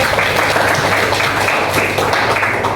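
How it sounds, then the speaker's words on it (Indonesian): Students clap in a classroom during a lesson, a short, steady round of many hands applauding at close range, loud and continuous with a low hum underneath. "Tepuk tangan buat Mas Khalid"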